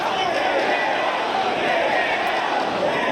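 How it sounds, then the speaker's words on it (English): A wrestling crowd at a WSW Australian Championship event keeps up a steady roar of jeers aimed at Shigehiro Irie, a dense, sustained wash of many voices in a large venue. "the crowd is certainly letting Shigehiro know about that"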